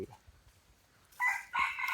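A white-eared hybrid rooster crows on a farm. After a quiet, calm stretch comes a brief two-part crow, moderately close but not loud.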